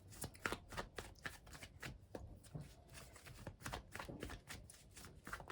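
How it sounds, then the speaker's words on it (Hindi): Tarot-style cards shuffled and drawn for a card reading, a steady run of crisp riffling and flicking bursts up close, with no talking. "और कार्ड्स लेते हैं।"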